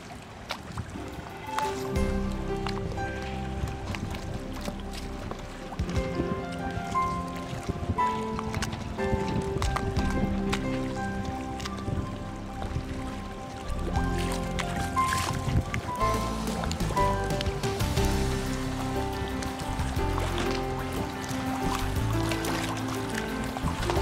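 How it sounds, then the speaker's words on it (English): A sailing boat motors through harbour water on the Solent, its engine a steady low drone under water sloshing and gurgling against the hull, continuous and close throughout. "I slip my own mooring and motor down to watch the start."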